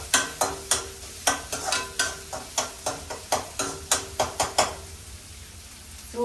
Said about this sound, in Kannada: ಸೊ ಚೆನ್ನಾಗಿ ಆನಿಯನ್ ಫ್ರೈ ಆಗ್ತಾ ಇದೆ.